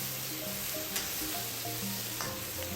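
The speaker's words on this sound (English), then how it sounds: "Next we will add the marinated prawns." Marinated prawns fry in black bean sauce in a hot pan, giving a continuous close sizzle with faint stirring clatter throughout.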